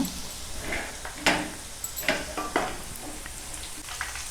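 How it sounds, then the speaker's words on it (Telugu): Two onions frying in oil with curry leaves, a soft continuous sizzle under a few scraping stirs and light knocks of a spoon against the pan. "ఇదే నూనెలో ఉల్లిగడ్డలు వేసుకుందాం"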